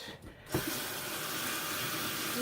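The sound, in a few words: rinsing makeup brushes under running water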